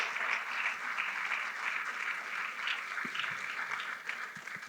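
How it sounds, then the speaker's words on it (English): An audience at an evening panel discussion on urban renewal in Tulsa, Oklahoma applauds its featured speakers, a soft, distant wash of steady clapping with a few closer claps late. "Please, let's give another round of applause for our featured speakers."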